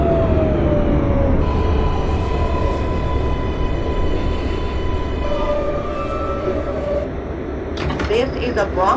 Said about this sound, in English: This is a Bronx-bound 4 local train